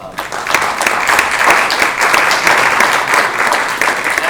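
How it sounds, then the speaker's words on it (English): A loud, steady round of applause from an audience at a panel discussion, dense clapping sustained throughout without pause. "just a round of applause again for this incredible panel"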